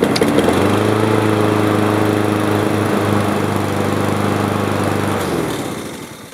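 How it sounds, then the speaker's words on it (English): Small engine, treated with Seafoam and with its spark plug just refitted, runs loud and steady with a strong droning hum, then winds down and dies out toward the end. "let's put the spark plug in, start the engine."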